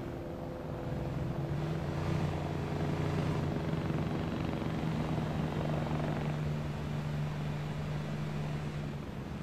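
An Mi-8 helicopter passing overhead in the Arma 3 game, a steady droning rotor and engine hum that holds at moderate distance throughout with no voices.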